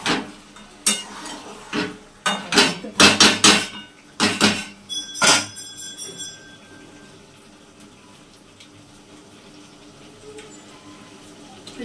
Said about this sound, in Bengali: এর মধ্যে এখন আলুগুলোকে দিয়ে দেবো।